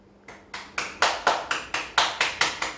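Steady round of applause for a child yoga trainer's asana performance: about ten crisp, evenly spaced claps in a brisk regular rhythm, close and clear with no talking.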